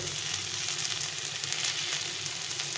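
Raw banana, potato and ginger fry in hot oil with spices, giving a steady, close, even sizzle with no pauses and no voices.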